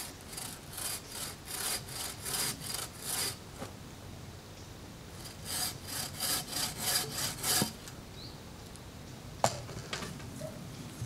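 A hand saw cuts wood for a half-lap joint on a table leg in a woodworking shop. Two runs of quick, rhythmic rasping strokes sound close but fairly quiet, with a pause between them.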